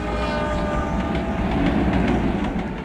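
A passenger train leaves Balangir on the line toward Bichhupali, its steady rumble and rattling wheels close and loud throughout, with no voices.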